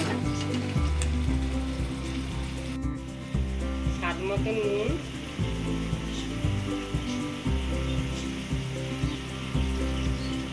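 Steady sizzling of papaya pieces frying in a pan until lightly reddened, continuous and fairly loud, with occasional scraping from stirring.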